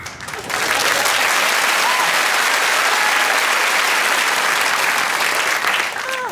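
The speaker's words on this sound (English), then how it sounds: "I presume some of the cheering and applause there is sarcastic" A studio audience bursts into loud, dense applause mixed with cheering, rising quickly after a brief pause and holding steady and close for several seconds.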